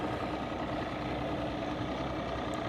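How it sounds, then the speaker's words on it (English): A steady, droning motor hums at an even pitch throughout, a small panfish boat engine running nearby on a river without change. "there goes the tiny boat"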